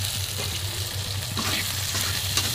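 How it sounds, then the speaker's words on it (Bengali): Onion sizzles and crackles steadily in a hot pan, a constant close frying hiss with occasional stirring scrapes and no talking. "তারপরে যে পেঁয়াজটা ভাজা হচ্ছে"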